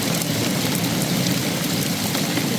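Rain pours steadily on a 1995 Casita camper during a thunderstorm with hail. The dense, even drumming and hiss continue without a break, and no one speaks.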